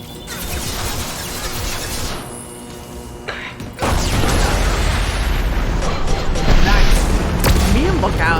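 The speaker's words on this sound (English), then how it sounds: "I was right next to that explosion." Explosions and crashing blasts in the Mass Effect 2 video game, a loud dense burst of booms and debris over constant combat noise, swelling sharply midway, with voices speaking under the din.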